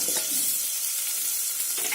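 Onion sizzling and crackling in hot oil, a steady close frying hiss with occasional stirring scrapes.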